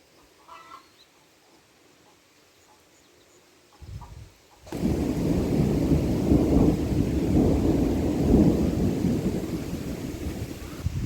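Thunder rumbles in the countryside at the start of a storm, with a faint distant rumble followed by a sudden loud, continuous roar of heavy rain that lasts to the end.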